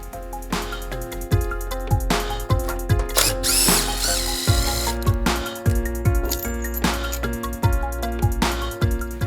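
A power tool with a socket removes shipping bolts from the back of a front-load washer, giving bursts of rapid ratcheting clatter with short pauses and a metallic clink partway through, close and loud with no talking.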